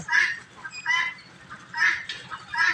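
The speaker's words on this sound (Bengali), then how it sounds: "আমাদের দেশি মুরগগুলা দেখেন কিভাবে আমাদের এই একসাথে" A mixed flock of domestic chickens, turkeys, guinea fowl and geese gives repeated rhythmic honking and clucking calls at close range, with no voice present.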